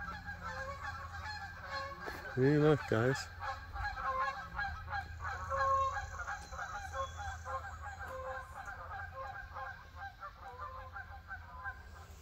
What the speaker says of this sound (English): That's Canada geese you hear.